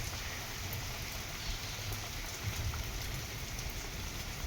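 Sudden steady rain falling outside a window in Akhaura, Bangladesh, a dense even hiss of drops on surfaces heard from indoors, continuous and moderately loud with no talking.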